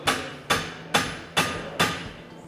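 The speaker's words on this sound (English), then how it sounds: "hammer and flat chisel." A hammer drives a flat chisel against the yoke lock nut while mounting an Emerson Fisher 667i actuator on a valve, five sharp metallic strikes about half a second apart, each ringing briefly, close and loud with no talk.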